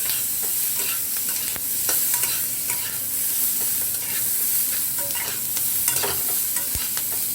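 Capsicum, tomato and onion are stir-fried in a kadai for kadai paneer, a close sizzle broken by repeated scraping and tossing of a spatula against the pan, without voices.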